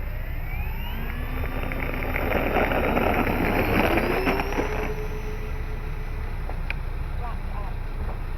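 An Avios Bushmule V2 RC airplane with differential thrust climbs out under motor power, a steady rising whine over strong wind noise buffeting the microphone, swelling around the middle and then easing as it flies away.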